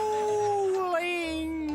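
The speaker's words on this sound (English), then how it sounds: "please stop howling." A pet dog named Cookie howls in a long, wavering, sustained tone, rising and bending in pitch, close by and continuous over a low background.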